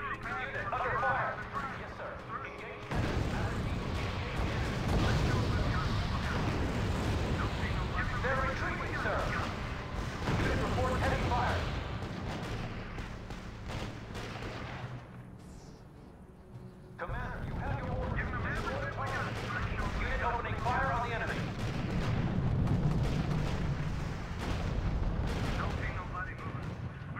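Battlefield combat in the R.U.S.E. strategy game, with dense gunfire and booming artillery rolling almost continuously, loud and close, briefly easing before the barrage resumes; game voices speak over the fighting.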